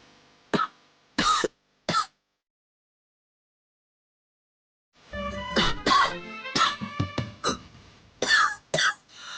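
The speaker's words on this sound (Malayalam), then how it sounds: "ചുമക്കുന്ന കണ്ടില്ലേ?" Three short, sharp coughs from a person in a domestic TV drama scene, close and clear, followed after a pause by a longer stretch of voices and busier sound.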